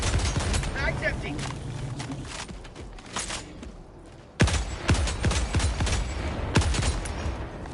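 Rapid bursts of automatic gunfire in Helldivers 2 crackle through the clip, with a heavier volley kicking in midway, mixed with game effects and a voice talking over it.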